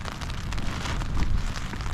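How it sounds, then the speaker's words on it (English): A light rain shower patters on a hiking tent, a dense, steady hiss of close drops with slight swells and no voices. "because it's just started raining."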